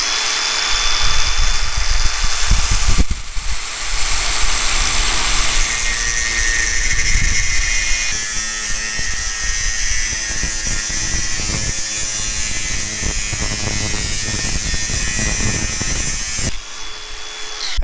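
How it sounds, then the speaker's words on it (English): Angle grinder cutting down metal bike handlebars at a windy skatepark, a loud, continuous high whine that shifts in pitch as the disc bites, close up with no talking. "We're about to cut them down with the old angle grinder."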